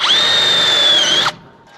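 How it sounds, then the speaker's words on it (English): A drill countersinks a hole in a split wooden post during a repair, with a single close, loud, high whine lasting just over a second that cuts off abruptly and leaves a faint hum. "So you'll countersink that and do the same method on that up there."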